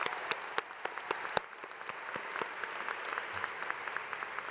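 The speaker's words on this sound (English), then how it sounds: "Let's give them a round of applause" Applause from a university commencement audience at an 8am spring ceremony, a steady wash of distant clapping from a large crowd, fairly faint, with a few sharper individual claps standing out near the front.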